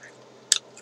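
A single sharp, brief crunch from a bite into a greasy Slim Jim beef jerky stick, close to the microphone in an otherwise quiet moment.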